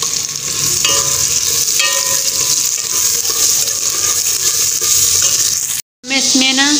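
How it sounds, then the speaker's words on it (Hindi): Onions frying in hot ghee for pulao, a loud, steady close sizzle with stirring scrapes throughout and a brief cut near the end. "घी मेरे ख्याल में गर्म हो चुका है, तो अब मैं ऐड कर देती हूँ प्याज भी"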